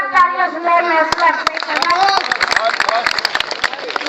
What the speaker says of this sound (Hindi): आप सब एक बार जोरदार तालियों से